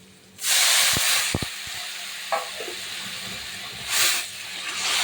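Water poured into a hot pan of frying turmeric-spiced curry base sets off loud bursts of hissing steam and sizzle, with a few clinks of a utensil, then a steady frying hiss that swells again near the end.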